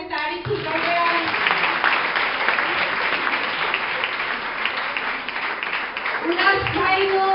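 Audience applause at a community gathering in a home, with a large group clapping steadily for about seven seconds, dense and sustained with some voices at the start and end.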